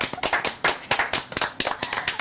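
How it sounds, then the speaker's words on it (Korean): A few people clap together in a café setting after a recited poem, the sharp, separate hand claps landing in an uneven, sparse rhythm, close and distinct rather than a dense roar. "박수 한번 주시죠."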